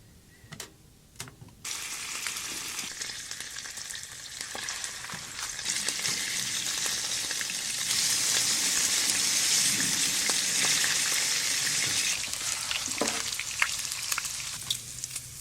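Thick cut applewood smoked bacon sizzles and crackles steadily in plenty of grease at a camp stove, a loud continuous frying hiss with a few faint clicks near the start.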